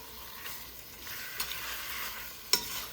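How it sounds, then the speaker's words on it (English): Seasoned chicken for a Caribbean curry being stirred and scraped around a pot over medium heat, a soft, steady scraping with a faint sizzle and a couple of sharper spoon knocks against the sides. "Give it a good mix. Scrape up everything from the sides and the bottom."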